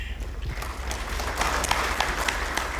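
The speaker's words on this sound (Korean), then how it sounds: "큰 박수 부탁드립니다." Applause at a city press luncheon with invited journalists, moderate clapping that swells slightly and holds steady over a low background rumble, with no speech.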